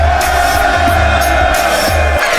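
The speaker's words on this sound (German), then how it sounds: "Yo, mach doch mal Lärm für Protti." A crowd at a rap battle cheers and whoops loudly and continuously, with shouted voices rising over a dense roar.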